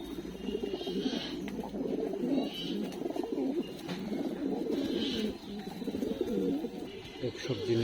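Male chocolate pigeon, a rare breed, coos in soft low repeated phrases throughout, mixed with a murmur of voices and background noise.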